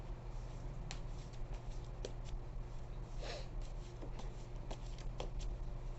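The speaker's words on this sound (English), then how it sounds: "I'm just trying to shuffle the cards and get them ready." A deck of tarot cards is shuffled, soft scattered clicks and riffles, quiet and close, over a steady low hum.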